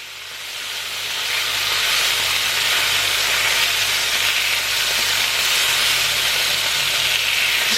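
Bacon crisping in a hot pan for a sandwich gives a steady, loud broadband sizzle that swells in the first second and then holds unbroken, with a faint low hum underneath and nobody speaking.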